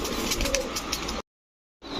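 Giribaz tumbler and racing pigeons coo softly amid a dense, noisy background, the sound cutting out abruptly for a moment before resuming.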